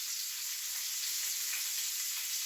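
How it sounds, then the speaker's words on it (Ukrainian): Cutlets frying in a pan in a village kitchen, a steady, bright hiss of sizzling oil, even and continuous at close range with no talk. "Дійшла черга до котлеток. Мама тут смажить."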